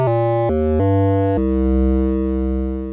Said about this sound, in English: that's just the tame sine wave